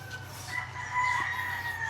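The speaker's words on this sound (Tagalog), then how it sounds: "pagpasok pa lang natin, nandyan na yung mga manok, nandyan na yung mga alaga ni Boss" Chickens and roosters on a farm, a rooster crowing clearly over steady clucking and low barnyard murmur, fairly close and without speech.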